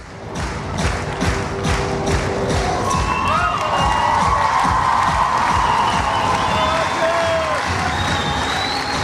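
A circus audience at a 30th-anniversary show applauds a performance: a broad, sustained wash of clapping with cheers and crowd noise, plus scattered thumps and whistles, loud and continuous.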